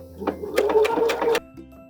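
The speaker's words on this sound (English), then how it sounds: "So now we're just gonna go around all of the elastic with a zigzag, sewing down the fabric and the elastic." Sewing machine running a zigzag stitch to attach elastic to underwear fabric, a steady close mechanical whir lasting about a second with rapid repeating needle pulses, stopping abruptly as it ends.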